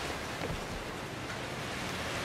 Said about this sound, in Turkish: Abi kan yağıyor ya.